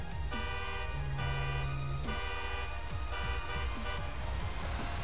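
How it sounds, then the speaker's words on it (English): Car horn in GTA Online sounded in a pattern of short and long honks, steady and fairly loud over continuous engine and ambient game noise, with no talking. "As you heard, that was the SOS Morse code."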